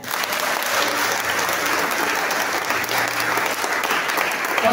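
A church congregation bursts into sustained applause, a dense and steady clapping from many hands that fills the room for several seconds at close range.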